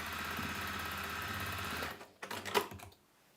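A sewing machine stitching through fabric at a steady fast hum for about two seconds, then stopping, followed by a few clicks and handling noises before it goes quiet.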